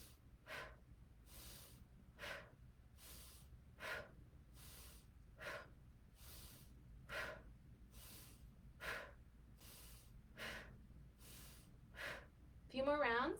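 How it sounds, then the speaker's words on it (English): Breath of fire breathing exercise: a run of rapid, forceful exhales through the nose, about ten sharp evenly spaced puffs, close and clear against a quiet background, ending in a louder rush of breath. "Breath of fire here."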